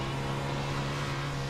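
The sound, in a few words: 360 non-wing sprint car driving in iRacing video game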